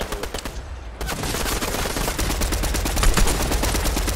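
Rapid automatic gunfire from the video game Fortnite, dense and continuous bursts after a brief quieter opening, loud and close with no talking over it.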